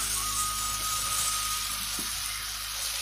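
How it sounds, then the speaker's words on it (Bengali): Chopped boiled flour rotis are stirred in a pan with tomato ketchup and Maggi masala, giving a steady soft sizzle with faint scraping, continuous and close throughout. "সেদ্ধ করা রুটি যেগুলো কেটে রেখেছিলাম সেগুলো দিয়ে কিছুক্ষণ এইভাবে করে নাড়াচাড়া করে আমি নামিয়ে নেব"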